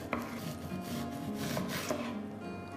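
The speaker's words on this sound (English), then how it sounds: "I'm just going to chop up some veggies here" A knife slices a tomato on a chopping board for a beef burger, soft scraping strokes with a few light taps of the blade against the board, quiet and close, with no voices.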